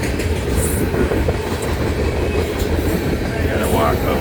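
BNSF train rolling past up close in the Montana mountains, a loud, steady rumble of railcars with rhythmic wheel clatter throughout.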